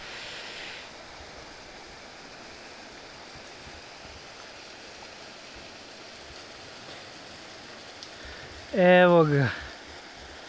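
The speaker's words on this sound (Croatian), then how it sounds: "vi gledate vodopad" A mountain waterfall on Sljeme, Medvednica, rushes as a steady, continuous wash of falling water. A voice speaks briefly near the end.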